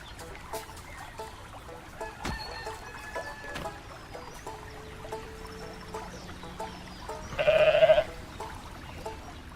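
A goat bleats in Goat Simulator 3 as one loud burst near the end, over busy game music and background sounds.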